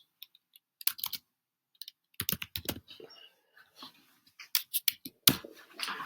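Address being typed into Xero accounting software on a computer keyboard: sparse clicks, then several bursts of close key taps separated by pauses, with no talking.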